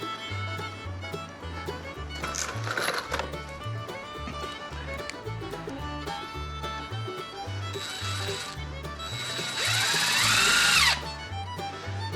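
A power drill drives screws into the wooden frame of a chicken tractor, with short buzzing bursts early and a louder whirring run near the end over quieter workshop clatter.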